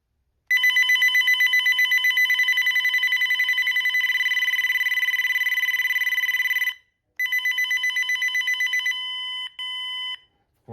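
A GE 27936GE3-M cordless phone handset rings through its default electronic ringtones, loud rapid warbling trills in long bursts, then a short pause and a different pulsed beeping pattern near the end.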